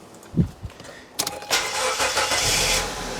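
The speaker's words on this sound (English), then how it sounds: "Let's see what happens when we actually crank the engine" A car engine cranks briefly with a couple of low thumps, then catches and fires into a steady, fairly loud running roar that holds to the end.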